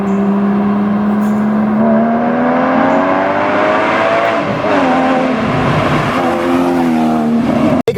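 A 2013 Porsche Boxster S engine drones steadily and loudly from inside the moving car, its pitch rising and falling smoothly as it accelerates and shifts, with no talking.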